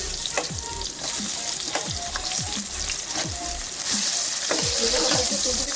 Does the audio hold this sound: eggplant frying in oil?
yes